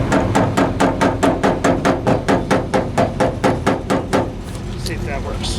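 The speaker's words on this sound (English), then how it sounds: "So, let's start with a hammer." A hammer strikes an AMC AMX that won't start, landing about fifteen loud, evenly spaced metallic blows at a steady rhythm before stopping, with a voice heard near the end.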